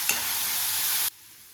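Chopped onions, green chilies and curry leaves hit hot oil with a sharp, close sizzle and a brief stir, then the frying cuts off abruptly.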